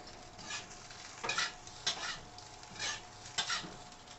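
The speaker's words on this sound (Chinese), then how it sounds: "慢慢炒匀佢" Dried scallop egg white fried rice is stir-fried in a wok over a low steady sizzle, with several distinct scraping strokes of the spatula against the metal, each a short loud burst.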